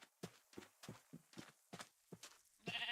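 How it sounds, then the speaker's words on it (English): Minecraft sheep bleats come in a quick rhythmic series of short pulses, close and moderately loud, closing on a brighter burst. "Come here, sheep."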